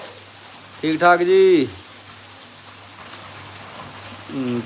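Rain patters in a soft, steady wash behind a short spoken exchange, faint and continuous.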